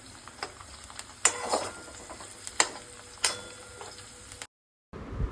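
A utensil stirs egg Maggi noodles in a pan, giving soft scraping and a few sharp clinks against the pan under a faint sizzle, then a brief silence near the end.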